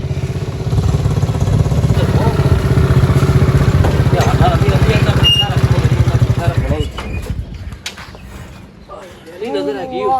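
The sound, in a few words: motorcycle engine idling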